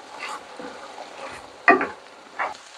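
Meat, nopales and onion fry together in a pan, giving a quiet, steady sizzle with a few brief louder stirring scrapes and bumps.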